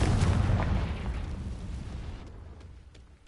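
A Confringo spell explodes in Hogwarts Legacy with a loud, deep boom right at the start that rolls off into a fading rumble over about three seconds.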